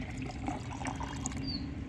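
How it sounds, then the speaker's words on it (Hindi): One litre of water is poured into a container to make a homemade plant fertilizer, a steady close splashing rush with no voices. "पानी इसमें भर देना है और ढककर आपको रख देना है"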